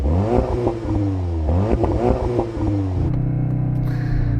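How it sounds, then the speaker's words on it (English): An Audi TTS engine revs hard twice, climbing and dropping in loud bursts, then settles to a rumbling idle. "So I'm going to rev up this Audi."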